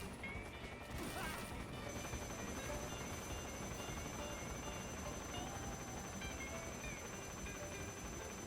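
Helicopters and gunfire on a mountainside battle in Metal Gear Solid 3, a constant rotor-like roar with scattered crashes and shots layered in a dense, steady wash of game noise.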